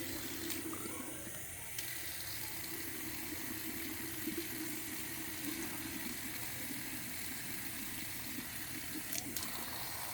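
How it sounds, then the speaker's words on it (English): Water runs into a laboratory graduated cylinder, a faint, steady splashing stream that continues for the whole stretch with no talking. "I'm going to take this graduated cylinder and I fill it with some water"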